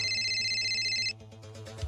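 A phone ringtone plays loudly for about a second, a steady electronic tone that cuts off abruptly, followed by faint background noise in a quiet indoor room.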